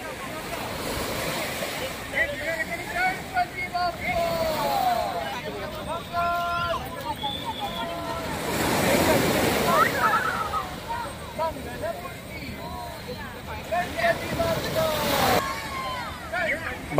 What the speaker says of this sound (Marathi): समुद्राला भरती आहे